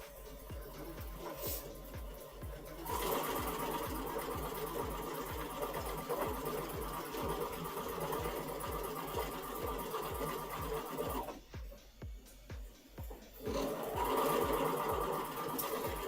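A sewing machine stitches sashing between quilt blocks with a fast, steady mechanical chatter that runs in long bursts, stops briefly near the end, then starts again, close and clear.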